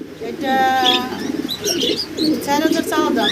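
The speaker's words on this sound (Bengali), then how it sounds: "অনেক দামি এক জোড়া কবুতর হোয়াইট বার্ড" A pair of white pigeons coos in low throaty bursts close by, while people talk over them.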